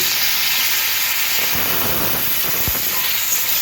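Sliced pointed gourd (potol) frying in hot oil gives a steady, dense sizzle and hiss close up, with a few low pops and crackles, no voices.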